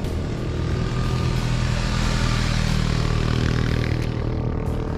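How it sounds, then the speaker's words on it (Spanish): A motorcycle on a mountain road near a tunnel, with others following, passes close by with a loud, steady engine roar for several seconds and no talk. "Otro moto acá."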